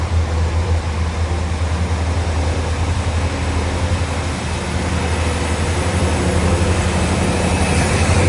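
A train arriving at a station in Northern Ireland gives a steady, loud rumbling drone with broad hiss, constant and close throughout, with no voices.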